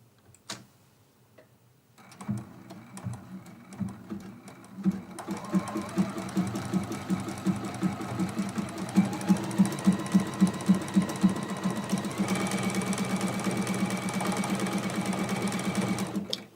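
A sewing machine runs a test of satin and zigzag stitches on a quilt-as-you-go block, its needle ticking in a quick steady rhythm close by after a quiet start, with no talking.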